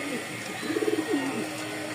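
A pigeon, likely one of a large-sized pair in a breeding loft, gives a single close, clear coo with a short pulsing rise and a drawn-out tail, against a steady background hum.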